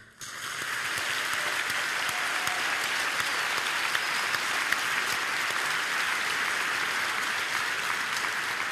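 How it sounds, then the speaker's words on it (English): A large audience at a European presidential debate applauds the candidates, sustained dense clapping that starts abruptly and holds at an even, loud level throughout. "let's give them all a round of applause together"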